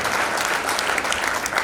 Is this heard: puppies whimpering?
no